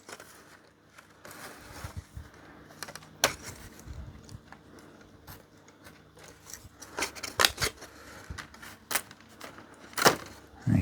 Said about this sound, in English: I'll run a blade across there, I think it'll be easier.